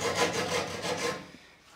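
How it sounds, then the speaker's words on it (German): A keyhole saw cuts into plasterboard while building a horizontal drywall ceiling box, rasping close up in about five quick, rhythmic back-and-forth strokes before stopping. "Und es gibt halt keine andere Säge, mit der man einfach so mal ohne Hilfsmittel in eine Platte reinkommt."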